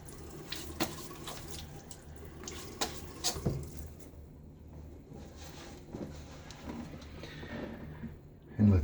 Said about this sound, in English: another splash on my face